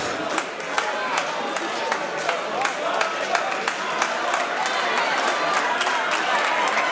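A wrestling crowd cheers for Jordan Kross at a Warrior Wrestling match, a steady roar with sharp rhythmic claps and stomps throughout, under a commentator's voice.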